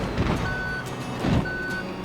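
A heavy off-road truck in the BeamNG Drive driving game backs up, its electronic reversing alarm sounding two steady, clear beeps about a second apart over a low engine rumble.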